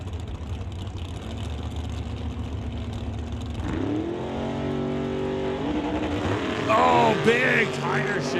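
A Rad Torque Systems dragster and a TK Performance Mustang roar off the line in a door-wars drag race, engines revving hard and rising in pitch, with wavering tones from tire shake. Loud throughout.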